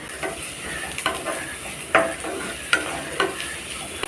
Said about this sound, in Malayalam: എല്ലാം കൂടി ഒന്നിച്ച് വഴറ്റിയെടുത്താൽ മതി